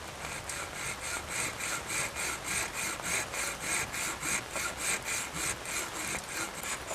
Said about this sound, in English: get our hacksaw blade directly across the olive and just gently saw